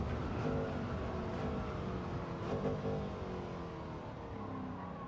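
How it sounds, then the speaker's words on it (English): A race car in Gran Turismo 7 holds second gear through a chicane, its engine droning steadily with gently rising and falling pitch, a continuous mid-level roar with no talk. "Just got to be steady in second gear through the chicane, because I give it a little burp of the acceleration."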